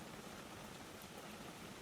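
Steady rain falls on a glass greenhouse roof, a soft, even broadband patter that stays constant and close throughout, with no voices.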